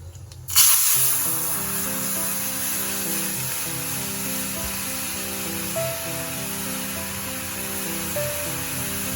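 Bengali five-spice (panch phoron) and two dried red chillies dropped into hot oil, a sudden loud hiss that settles into a steady, continuous sizzle running throughout, close by, with no talking.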